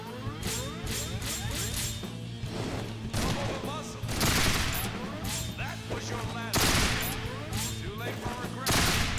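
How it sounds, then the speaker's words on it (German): Rapid bursts of gunfire crackle continuously during a jump over an enemy in the video game Resonance of Fate, loud and dense with repeated volleys over a steady mechanical hum, no talk heard. "springe dann über ihn drüber und schieße in der Luft auf ihn"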